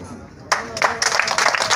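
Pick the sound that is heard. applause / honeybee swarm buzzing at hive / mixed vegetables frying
applause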